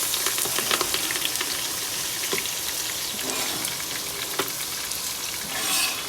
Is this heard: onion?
yes